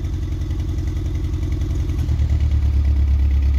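Classic rally car engine in the 2023 Dakar Classic running rough with one cylinder misfiring, giving a steady uneven lumpy chug at close range. The engine swells slightly louder partway through, with no voices.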